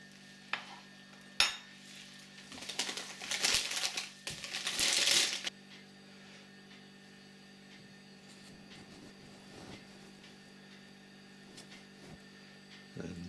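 Brown sugar being stirred and mixed with other ingredients in a bowl for pulled pork: a few close scraping and crunching bursts early on, then long quiet stretches with a low steady hum.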